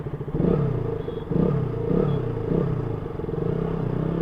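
A KTM RC 200 motorcycle pulls away in first gear, its single-cylinder engine note rising in repeated revving sweeps, loud and close with no talk over it.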